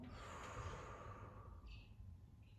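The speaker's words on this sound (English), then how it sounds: "Take a deep breath in. And exhale." A single long, deep exhale during a guided yoga breathing exercise, soft and close, trailing off into quiet room tone with no talking.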